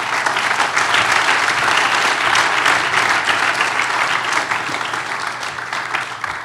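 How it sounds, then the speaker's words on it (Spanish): A congregation applauding during a church service sermon: dense, loud clapping from many hands that sustains for over six seconds and fades slightly at the end, with no talking. "Dele un aplauso al Señor."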